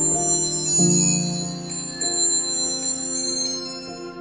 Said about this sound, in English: every wafting aroma from locally grown flowers and the chime from these ornate clocks